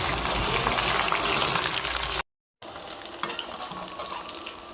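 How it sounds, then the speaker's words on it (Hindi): Chicken coated in besan batter deep frying in hot oil, a loud, dense, foamy sizzle that cuts out abruptly for a moment and then resumes slightly softer, with no talk. "और आप देखिए चिकन कैसा ज़बरदस्त किस्म का फ्राई हो रहा है"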